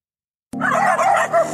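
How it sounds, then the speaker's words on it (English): Several dogs bark and yelp in a loud, continuous burst that starts abruptly after a moment of silence and carries on steadily to the end, with no talking. "I got dogs around here."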